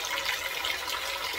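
Warm water runs steadily from a tap while a wig is washed, a continuous close hiss of flowing, splashing water with no talk.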